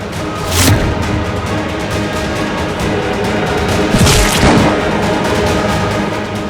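Two gunshots ring out in a Hindi TV drama scene, about three and a half seconds apart. Each is a loud, sharp bang with a short rumbling tail over a steady noisy background.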